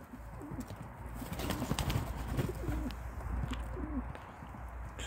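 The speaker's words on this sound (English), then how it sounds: "And the pigeons are flapping around." Pigeons in a loft cooing softly amid constant rustling and wing flapping, a busy, dense bed of bird sounds close by with no talking.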